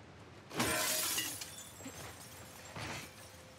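Glass shatters loudly in a PS5 video game as a window is broken, a bright crashing burst followed by tinkling debris, then a second smaller breaking crash near the end.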